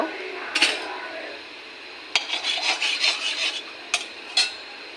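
An egg is beaten in a bowl with a utensil, giving close rubbing scrapes and a run of quick rhythmic clinks against the bowl, broken up by a few sharp taps.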